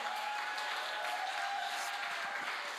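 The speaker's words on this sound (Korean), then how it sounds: "우리 자원병과 징지병을 위해서 박수 한번 칩시다" A church congregation claps in a brief, steady burst of applause, heard from a distance in a reverberant hall.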